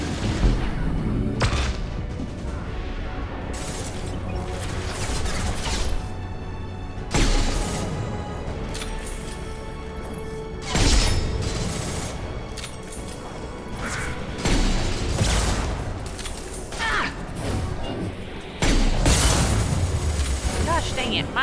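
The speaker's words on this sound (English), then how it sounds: "Watch out, flashbangs." Flashbang grenades going off in the game Mass Effect 2, loud sharp bursts repeating through a dense wash of combat noise and music, with a voice talking over them.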